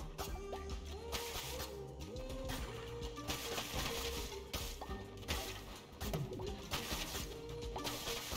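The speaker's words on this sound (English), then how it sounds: "Probably smashing more of these environments up" Environment objects being smashed in Cult of the Lamb, a series of crashing, cracking breaks and thwacks scattered among game sound effects and music, moderately loud with no talk.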